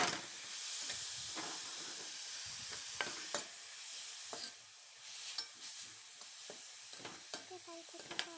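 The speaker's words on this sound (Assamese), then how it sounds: "দিয়াৰ লগে লগে এনেকৈ লৰাই থাকিব আপোনালোকে" Grated coconut stirred in a hot wok for coconut laru: a soft continuous sizzle broken by repeated scraping strokes of a spatula against the pan, close up.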